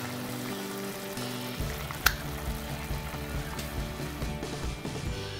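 A pot of Thai chicken curry (kaeng om with free-range chicken) bubbles and sizzles steadily on the stove, with soft gurgling and one sharp clink partway through.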